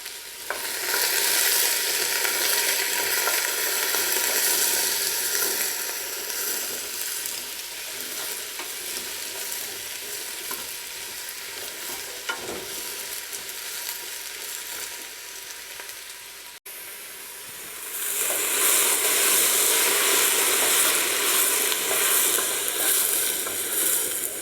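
Chicken browns in a hot pan for stock, giving a loud, dense, continuous sizzle that dips briefly after a sharp knock, then swells back to full strength.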